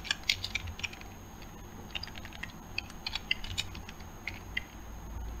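Someone types code on a computer keyboard, producing a quick, irregular run of crisp key clicks and taps up close, with short pauses between bursts and a low background hum, and no speech.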